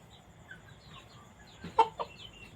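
A three-month-old Thai fighting rooster gives a couple of short clucks amid low background noise, with a brief louder burst near the end.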